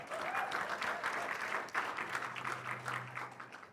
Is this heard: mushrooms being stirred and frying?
no